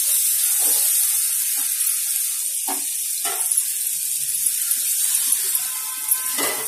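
Semolina halwa roasts in a pan as it is stirred, giving a continuous soft sizzle with intermittent scraping and stirring scrapes, no talk over it.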